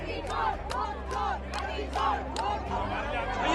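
A crowd chants slogans in rhythmic bursts at an opposition protest march against voter roll deletions in Bihar, with claps and shouts rising over a steady low rumble of the gathered marchers.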